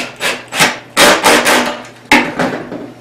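A cordless drill, clutch set, drives a pocket-hole screw into wood in several loud, close bursts of whirring and grinding with short pauses between them.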